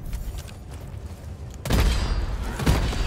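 A loop bomb goes off in Deep Rock Galactic: after a quieter stretch of low rumbling, a sudden loud blast erupts and rolls on, followed by another heavy thump.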